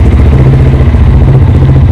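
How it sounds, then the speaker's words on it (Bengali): A Honda NSX 165R 2024 motorcycle engine running at a steady idle, close and very loud with an even mechanical rumble and no talk. "বাইকটা স্টার্ট হয়ে গেছে।"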